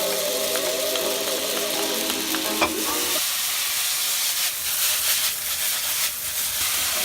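Dark soy sauce and vegetarian mushroom sauce hit noodles in a hot pan, giving a loud, steady sizzle and hiss with stirring scrapes; the sizzle flares as the sauce goes in, then settles into continuous frying.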